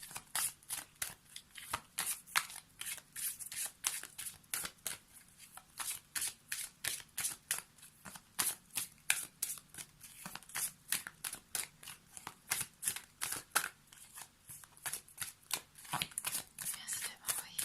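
Oracle cards shuffled by hand in a fast, steady run of crisp riffling bursts that carry on for the whole stretch, close and fairly quiet, with no talk.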